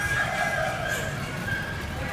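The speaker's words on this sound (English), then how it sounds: "So many beautiful birds." Chickens in a poultry barn at the Kansas State Fair in early morning, with roosters crowing and hens clucking in a steady, dense barnyard din that fills the whole stretch.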